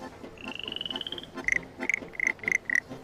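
Frogs of a rare kind croak nearby in quick pulsing trills, then a run of short, repeated chirping calls in an uneven rhythm.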